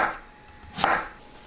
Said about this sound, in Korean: 껍질 제거한 고구마를 1cm 두께로 썰어주세요